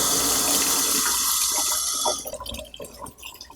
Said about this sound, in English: let's release any pressure or leftover water.